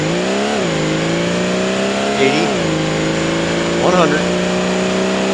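Drag race car in the BeamNG video game, held on launch control without nitrous: a loud, steady engine drone whose pitch climbs slowly, with a brief dip early on and someone talking over it.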